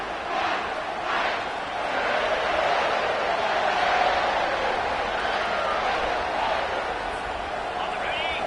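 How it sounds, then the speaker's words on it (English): Loud, steady roar of a stadium crowd in an NCAA 25 football game, a dense wash of cheering and chatter that swells slightly midway, with no single voice standing out. "This crowd bringing the energy and noise early."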